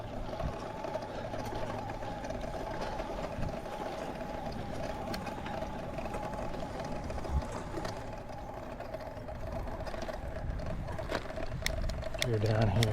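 A Tong Sheng TSDZ2B mid-drive e-bike motor assists while the rider pedals, giving a steady faint whirring hum under wind noise, with someone talking throughout.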